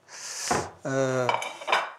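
Plates and cutlery are handled close by, with ceramic scraping and several bright metallic clinks of silverware against dishes, loud and without speech.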